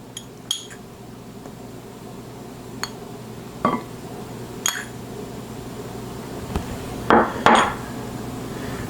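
Cooked bison meat spooned onto corn cakes for tacos, a few soft scrapes and clinks of a spoon against a pan spaced out over a quiet kitchen hum, ending in a pair of louder clatters.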